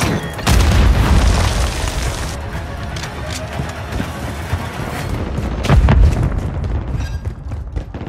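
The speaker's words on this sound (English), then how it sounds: "Grenade!" A grenade blast in Modern Warfare gameplay, a loud booming explosion near the start with a second heavy blast later, amid chaotic gunfire and battle noise.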